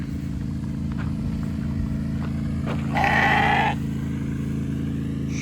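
Sheep on a farm on moving-fence day let out a single short bleat from fairly close, rising over a steady low engine-like drone and faint background noise.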